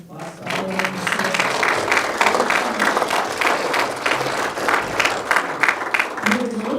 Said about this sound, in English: I think we need to give them a huge round of applause for all of them.